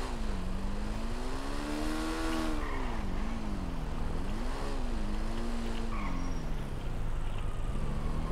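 A Honda Biz motorcycle ridden in GTA 5, its engine droning steadily with a wavering pitch that rises and falls as the rider speeds along, loud and close throughout.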